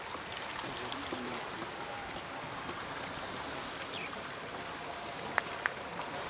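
A small waterfall in Kumrat Valley, Pakistan, pours steadily with an even, soft outdoor rush, faint and continuous, with a couple of brief sharp clicks near the end.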